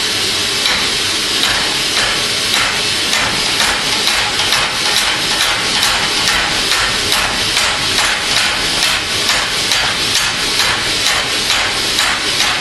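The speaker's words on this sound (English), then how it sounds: "Treadle hammer makes it really nice because you use both hands to turn the tooling." Treadle hammer forging hot steel into a candle holder, a steady, loud run of rapid, evenly spaced metallic strikes with a continuous hissing background and no talking.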